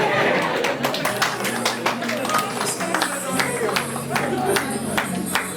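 An audience at an optometry week dinner and launch event claps for a guest, with a dense run of sharp, overlapping hand claps carried over background chatter and a low hum throughout.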